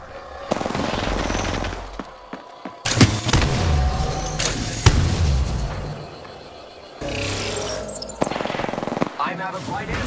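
Apex Legends gunfire rattles in rapid automatic bursts with booming impacts and grenade blasts, loud and dense through most of the stretch, broken by brief gaps and with a voice talking over the action.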